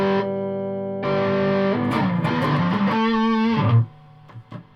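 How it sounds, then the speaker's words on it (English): Heavily distorted electric guitar, bridge humbucker (Seymour Duncan) through a Carlsbro Nu Tone 250W head's distortion channel, rings out in sustained chords and a short riff, loud and saturated, then cuts off with a few faint scrapes. "But I'm meant to be using the humbucker, so distortion channel."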